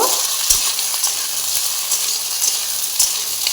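Bottle gourd vegetables fry in a pan with a steady sizzle while a utensil stirs them, giving sharp scraping clicks at a few irregular moments, close and without talk.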